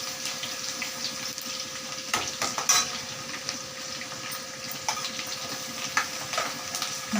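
Fish frying in a pan for a home-cooked fish fry, a steady close sizzle and crackle with scattered clinks of utensils against the pan and no talking.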